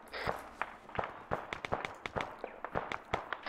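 A rapid series of sharp cracks and pops from the south during a tactical training exercise, irregular and fairly distant, like a burst of gunfire with no voices.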